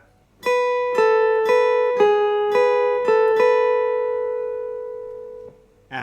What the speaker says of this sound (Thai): จับเหมือนเดิมนะครับ สาย 1 สาย 2 สาย 1